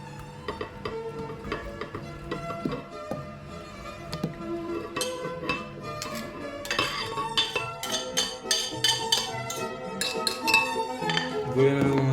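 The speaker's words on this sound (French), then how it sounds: "Accompagné de 3 œufs, nous allons les mélanger." Three eggs being mixed with bananas in a bowl, close clinking and scraping of utensil against the dish in uneven bursts, moderately loud.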